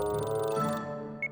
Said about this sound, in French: c'est mon alarme de rappel.